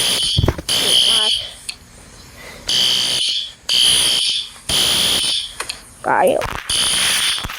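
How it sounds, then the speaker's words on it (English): A fire alarm set off by a smoke detector blares in loud repeated bursts of piercing high tone separated by short gaps, while people talk and exclaim between the blasts. "I'm still gonna go out until the fire alarm goes."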